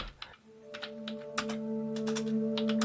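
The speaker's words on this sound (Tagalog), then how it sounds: "Sino yung nagtatype sa keyboard ngayon?" Someone types on a computer keyboard in an office at night, a quick irregular run of clicking keystrokes heard close over a low steady electrical hum.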